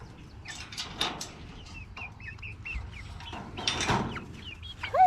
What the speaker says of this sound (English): we got ourselves chickens